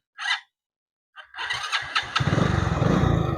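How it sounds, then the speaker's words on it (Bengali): A Royal Enfield copy motorcycle with about 27,500 km on it is started with the self-starter: a short starter whir, a pause, then the engine catches and settles into a loud, steady, close idle with no talking. "সেলফ স্টার্ট দেখুন"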